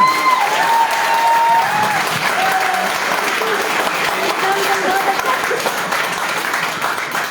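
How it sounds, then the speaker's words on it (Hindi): Steady applause from a seminar audience, dense and sustained throughout, with faint voices and whistles mixed in. "सबसे ज्यादा पीछे ताली बजा रहा है।"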